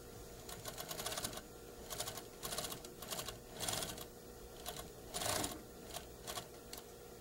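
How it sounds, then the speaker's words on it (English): A sewing machine top stitching a garment collar runs in a steady fast whir, swelling in short rhythmic bursts over faint background hum. "The collar may be top stitched on."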